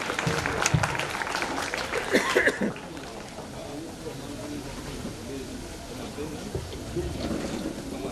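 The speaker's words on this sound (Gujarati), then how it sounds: "ફરીવાર જોરદાર તાળીઓથી વધાવીશું." An audience at a school event applauds loudly for the girls who sang a welcome song. The burst of clapping lasts about two and a half seconds, then drops to a quiet, murmuring room with voices.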